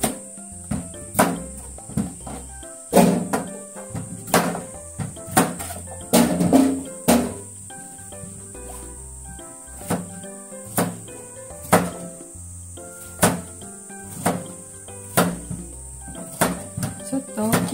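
Knife chopping a large cucumber into rough chunks on a cutting board, a series of crisp, distinct thuds at an uneven pace, close and clear, with a faint background hum between strokes.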